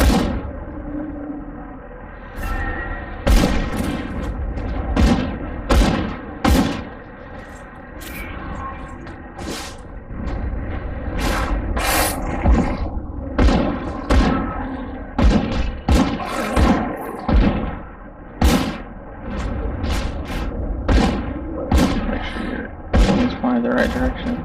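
Sharp, punchy shots and thuds from combat in the action RPG Grim Dawn pop repeatedly over about twenty seconds in irregular clusters, mixed with game effects and a voice talking throughout.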